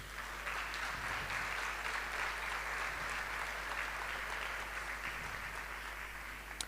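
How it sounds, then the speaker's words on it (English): Applause from an audience at an International Day of the Boy Child event fills the room, steady and continuous with many hands clapping at a moderate distance, without talk. "give it a big round of applause"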